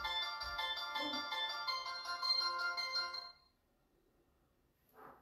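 A cellphone ringtone plays a bright, tinkling electronic melody for about three seconds and then stops abruptly; after a short silence a voice briefly speaks.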